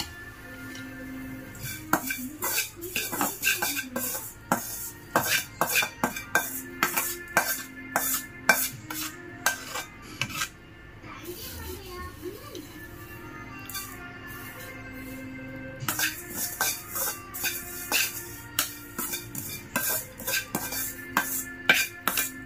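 Ingredients for poha being stirred and mixed in a pan, an irregular run of close metallic scrapes and clinks, pausing midway and then resuming, over a faint steady tonal background.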